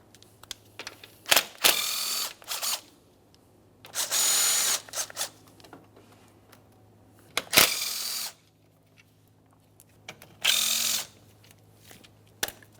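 Ratchet wrench removing 10mm bolts from the AC condenser of a 2014-2018 Mazda 3, heard as several close bursts of fast clicking and whirring separated by quiet gaps and small clanks of handled hardware.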